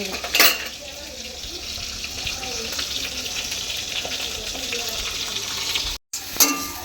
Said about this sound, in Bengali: চাল কুমড়ো ভাজা প্রায় হয়ে এসছে এখনই নামিয়ে দেবো